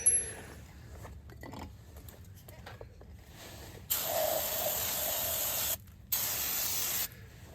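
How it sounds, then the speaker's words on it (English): Two bursts of aerosol spray hissing close by onto a 2001 Ford F150 wheel hub during a wheel bearing replacement, a long steady spray, a brief pause, then a shorter one, following some quiet handling noises. "So, go ahead and spray this thing."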